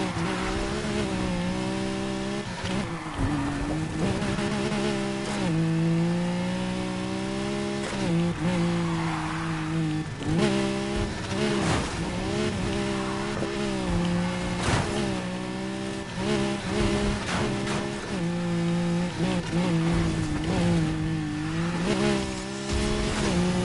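A Lamborghini Aventador SVJ in Need for Speed Heat drives with a loud, close, sustained engine drone that rises and falls through revs and gear shifts, with brief tire noise.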